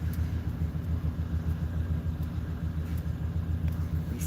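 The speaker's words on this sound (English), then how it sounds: "Oh, that's the garbage truck." A garbage truck passes outside, heard as a steady low engine rumble that holds for several seconds at moderate distance, with no voices over it.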